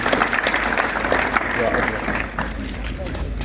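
A church congregation applauds together in a dense, continuous burst of clapping that fades slightly toward the end, with voices mixed in.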